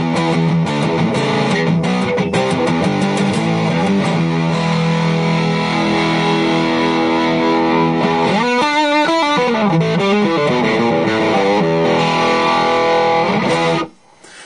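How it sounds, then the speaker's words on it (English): A heavily distorted electric guitar through an Ibanez SD9 Sonic Distortion pedal turned all the way up plays loud, saturated chords and riffs that ring on continuously, then cut off abruptly near the end. "crank it all the way up so you can hear it kind of get blistering"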